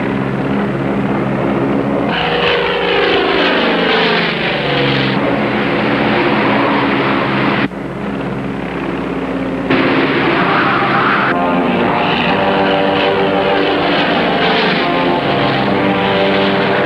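A propeller airplane engine drones loudly before a parachute jump, a heavy steady roar with pulsing harmonic tones that shift in pitch, dipping briefly midway and then resuming at full strength.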